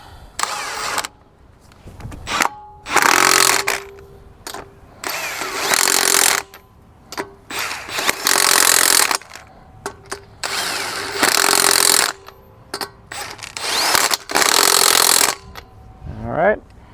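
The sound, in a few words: impact wrench tightening wheel bolts on Hyundai Palisade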